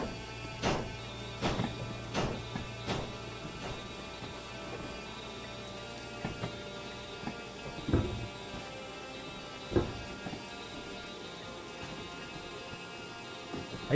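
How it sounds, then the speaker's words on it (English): Heavy rain in the train game Derail Valley, a steady wash of downpour with scattered sharp drop impacts and occasional louder ticks, heard alone without voices. "Raining like crazy."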